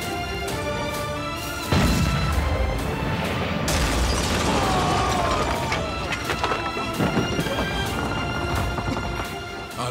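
Cannon fire from a ship's guns during a naval battle in the game Barbarossa: Sword of the Mediterranean, with loud booming blasts and crashing impacts over a busy battle soundscape, continuing for about eight seconds.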